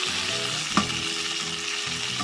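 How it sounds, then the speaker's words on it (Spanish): Chicken breasts brown in a hot pan for a mushroom-sauce dish, a steady close sizzle and crackle with one sharp clink of a utensil partway through, no voices. "Y así vamos a ir dorando todo nuestro pollo."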